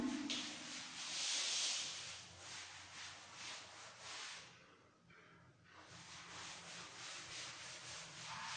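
A duster rubs out writing on a classroom board with repeated scratchy back-and-forth strokes, with a brief pause midway, close and fairly quiet with no talk.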